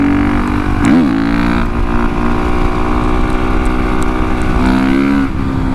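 A Honda CRF450RX supermoto motorcycle drones steadily while cruising in fifth gear, its engine note loud and close with brief pitch swoops, and no one speaking.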